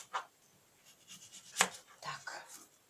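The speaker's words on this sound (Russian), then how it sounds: "Нарезаем сначала огурчик." Cucumber being cut into thin strips with a knife, a few sparse, quiet chopping taps against a board, close and soft, with no talk.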